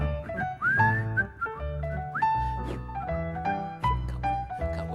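Whistling attempted by a man with false teeth on stage, sliding breathy tones rising and falling over a live band in a comedy performance.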